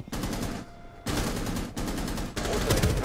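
Bursts of automatic gunfire from the video game Rainbow Six Siege, three or four dense rapid volleys in a row, loud and close, with no talk over them.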